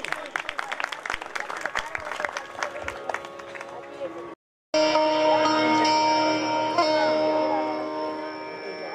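Enthusiastic applause and clapping from the audience at a live Sindhi music night at the first Darbello Festival, a dense crowd roar that cuts off briefly before music with sustained tones resumes.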